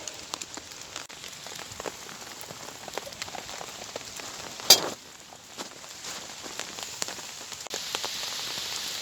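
Steady rain patters on a wet wild camp among tombstones, soft dense drops tapping surfaces near and far, with one sharper splash midway and no talking.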